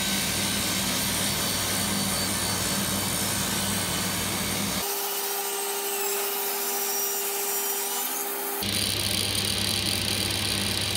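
A power tool cuts a 20-degree chamfer along the edge of wooden breadboard ends for a coffee table, a loud continuous whirring cut that drops out briefly mid-way, leaving a steady tone, then resumes.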